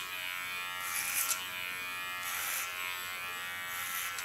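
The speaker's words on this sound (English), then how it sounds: "taking my Kiona clipper, put the blade on the sharpest position" Electric hair clipper, blade on its sharpest setting, cutting a short feminine hairstyle over a comb in a salon; steady close buzzing throughout with brief louder passes as it bites into hair.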